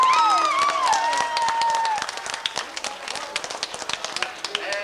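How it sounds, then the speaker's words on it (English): At a 1989 country centennial jubilee beard contest, an announcer's voice gives way to a patter of audience clapping for a trimmed-beard entrant, a scattered run of hand claps at moderate distance. "A clap for Braden Whitelock's trim beard."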